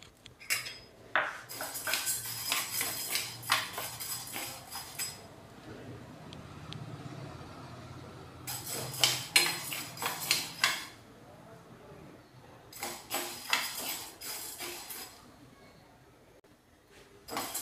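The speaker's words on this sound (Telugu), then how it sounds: "కందిపప్పు దోరగా వేయించుకుందాం." Toor dal is dry-roasted and stirred in a pan. A metal spoon scrapes and clinks against the pan in repeated bursts, separated by quieter stretches with low background noise.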